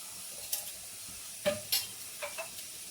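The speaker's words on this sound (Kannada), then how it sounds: "ಈ ಇರೋದು ಮಸಾಲೆನ ಫ್ರೈ ಮಾಡ್ಕೊಳ್ಳೋಣ ಬನ್ನಿ" Masala frying in two spoons of oil for a chicken liver gravy, with a few faint sizzles and stirring clinks scattered over a quiet background.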